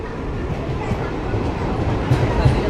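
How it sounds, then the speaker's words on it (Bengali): Berhampore–Azimganj MEMU train at platform 2 of Murshidabad Junction, giving a steady low rumble of rolling stock and rail noise throughout, with a slight swell near the end. "বহরমপুর আজিমগঞ্জ মেমু 2 নম্বর প্ল্যাটফর্মে"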